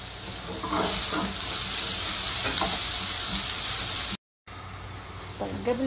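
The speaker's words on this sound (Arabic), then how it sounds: "وأحط عليه البصل يتحمر" Chopped onion frying in olive oil in a pan for a minced-meat pasta bake, a steady soft sizzle with faint stirring clinks, cut off by a brief silence near the end.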